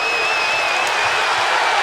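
A college basketball arena crowd at an Ohio State vs Cincinnati game roars and cheers in a steady, loud, dense wash of noise over the whole short stretch.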